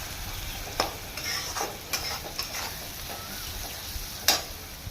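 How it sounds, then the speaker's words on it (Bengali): Spices being stirred and fried in a pan while making ghugni, a steady soft sizzle with a few sharp scraping knocks of the spoon against the pan, close and moderately quiet, with no talking. "ভালো করে 1 মিনিটের মতো নেড়ে চেড়ে নেব। মশলাগুলোকে কষিয়ে নেব।"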